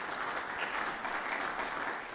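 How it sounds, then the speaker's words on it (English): Audience applause after a panel discussion on a century of zoning in Cambridge, a dense continuous wash of many hands clapping in a room, heard alone. "Give yourselves a round of applause."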